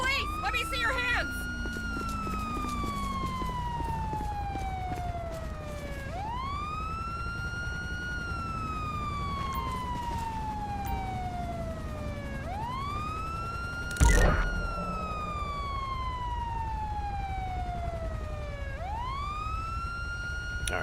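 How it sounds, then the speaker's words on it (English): A police car siren from GTA V with the LSPDFR mod wails in long rising and falling sweeps, repeating steadily for about twenty seconds, moderately loud, with a brief sharp burst partway through. "Alright, let's get the siren shut off."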